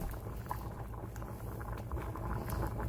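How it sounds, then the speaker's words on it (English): Water with rice bubbles and simmers in a pot with a low, steady churning and soft irregular pops, close by and without any talking. "this is as much as that rice needs to be boiling right now"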